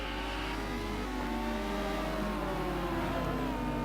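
A Ferrari race car engine in a sim racing game drones steadily through corners on the Kyalami circuit, with a continuous mid-pitched whine that shifts gradually and no talking.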